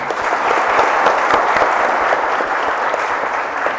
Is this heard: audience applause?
yes